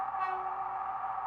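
Short, faint tone from a Bachmann Class 158 DMU model train's DCC sound playing a single horn blast over the steady engine drone, lasting about a second.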